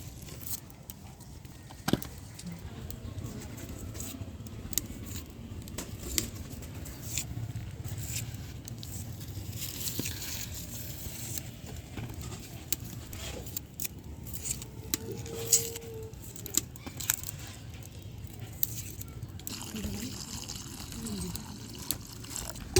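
Quail eggs and potatoes boil together in a pot on the stove, giving a faint, continuous watery bubbling and patter with scattered small ticks and clicks throughout.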